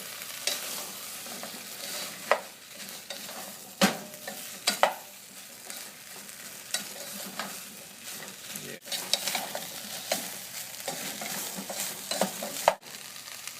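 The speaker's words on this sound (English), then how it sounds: "just take the lid like this and just rotate the vegetables" Aloo gobi, potatoes and cauliflower, sizzles softly in a pan as a utensil stirs and scrapes through it, with scattered clinks and knocks against the pan and no talking.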